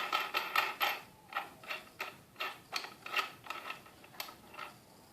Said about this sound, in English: remove the back nut from the projector